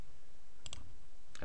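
Two quick computer mouse clicks close together near the middle, then another click at the end, in an otherwise quiet room.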